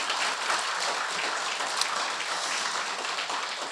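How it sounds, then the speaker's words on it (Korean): An audience at a lecture on Korean studies and Buddhism in Los Angeles applauds a visiting professor, a dense even wash of clapping that holds steady throughout the moment. "여러분 박수를 한번 보태 주십시오."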